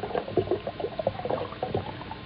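Distilled water pours into a container in a short burst of gurgling, bubbly splashes, close and fairly loud, with no voices.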